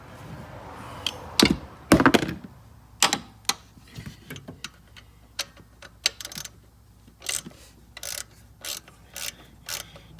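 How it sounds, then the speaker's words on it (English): A socket wrench ratchet tightening a bolt on the drive belt tensioner assembly of an Ecotech engine, a rapid clicking pawl broken by clunks and short metallic bursts, close and irregular, with no voices. "So now I can tighten my bolt up."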